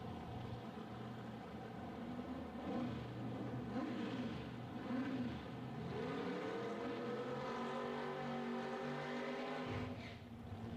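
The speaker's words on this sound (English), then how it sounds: "Next pair doing their burnouts." Funny car drag racers doing burnouts at a nitro drag racing event in Texas, a sustained roaring engine drone with rising and falling pitch sweeps, distant and steady, ending in a brief drop-off.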